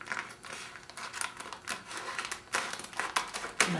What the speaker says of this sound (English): I'm going to use the scissors real carefully.